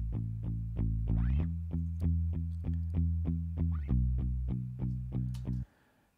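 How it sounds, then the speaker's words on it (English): A clean bass guitar recorded direct into an audio interface plays a repeated low note pattern on its own, each note plucked evenly, ending abruptly in quiet. "next up we have the bass, which has been recorded straight into my audio interface."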